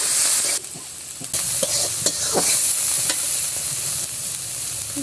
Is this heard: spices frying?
yes